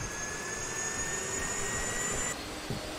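The engine of a UH-1 Huey helicopter starts up in the DCS World flight simulator, giving a steady, faint turbine whine with a high thin tone over broadband rushing noise and no talking.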